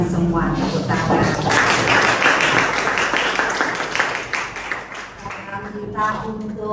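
A classroom of students claps together, a dense run of hand claps that builds and then thins out, with voices talking over and around it.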